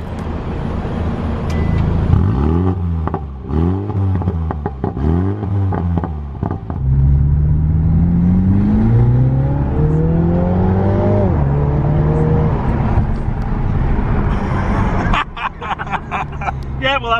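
A 2020 Mini Clubman JCW engine revs through several quick climbs and gear changes, then holds a steadier, rising drone as the car drives. It sounds loud and close, with a burst of background noise near the end.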